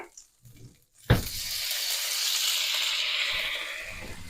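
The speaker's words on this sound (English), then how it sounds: "And deglaze this pan." Red wine poured into a hot pan after browning beef braciole bursts into a sharp sizzle, then settles into a steady, fairly loud hiss of bubbling liquid.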